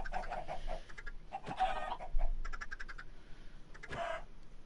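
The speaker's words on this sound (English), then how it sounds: "I know there's more than 25 chickens in there." A crowded pen of more than 25 chickens, packed tightly into a space in a Minecraft-style survival game, clucks and squawks in uneven bursts at close range, with no talk over them.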